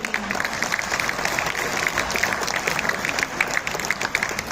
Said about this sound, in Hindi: एक बार ताली बजाइए आप